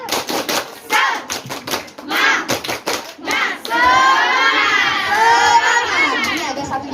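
A group of schoolchildren performs a rhythmic clapping chant, sharp claps in quick patterned bursts followed by a loud, sustained burst of excited cheering and shouting.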